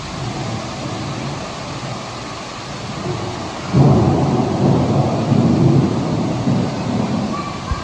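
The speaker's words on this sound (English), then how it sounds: "During the storm, there is fog, there's lightning, there's thunder" Simulated thunder rolls through a museum exhibit's indoor storm, over a steady rain-like hiss. A deep, loud rumble swells in midway and keeps grumbling to the end.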